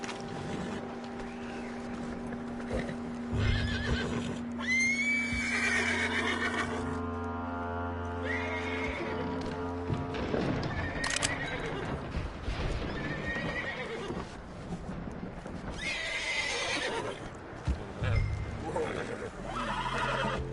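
Horse neighing in Red Dead Redemption 2, with repeated whinnies and clip-clop hooves over a steady engine-like drone and background music, a loud squealing whinny near the middle and another toward the end, with voices now and then.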